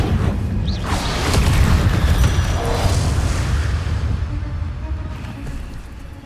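A fire spell cast in a fantasy video game: a loud, sustained roaring burst of flame with a heavy low rumble that swells over the first few seconds and slowly tapers off, with no talking.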